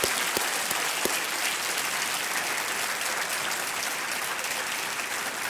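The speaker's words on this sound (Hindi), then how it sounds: "और तालियां देते हैं इनके लिए।" A studio audience claps at a game show, a dense, steady burst of applause that stays loud and close for several seconds, with no voices over it.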